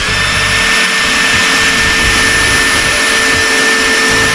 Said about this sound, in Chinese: 继续钻孔。